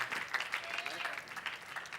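Audience applause at an Indonesian comedy stage show, a steady wash of many clapping hands at moderate level, with a voice talking faintly underneath.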